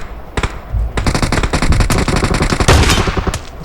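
Gunfire in the battle royale game PUBG on the Livik map: rapid, loud automatic bursts of close-range shots hammering in quick succession, with no talk over them.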